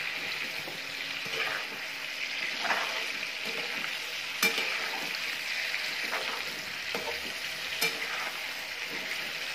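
Fish pieces half-fry in hot salted oil for a fish curry, a steady close crackling sizzle with occasional louder pops and faint stirring clinks throughout.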